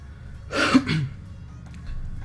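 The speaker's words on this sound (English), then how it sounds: "Sorry about the cough." One short, throaty cough, close and fairly loud, stands out briefly against a quiet background.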